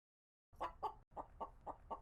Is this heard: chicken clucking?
yes